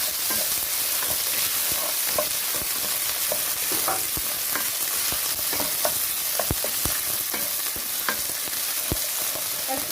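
Onions frying in oil for an Oriental stew, a steady loud sizzle with scattered scrapes and clicks of stirring throughout, no talking.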